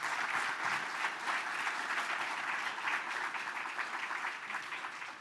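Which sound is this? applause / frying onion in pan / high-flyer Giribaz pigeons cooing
applause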